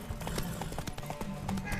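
Horse hooves clip-clop in a steady trot through The Witcher 3 game world, a fairly close rhythmic patter over soft game ambience, with no talk.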